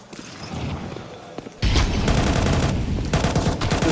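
Rapid USP pistol gunfire in a Counter-Strike esports match, a dense burst of sharp shots that starts suddenly and continues loudly under excited commentary from a caster.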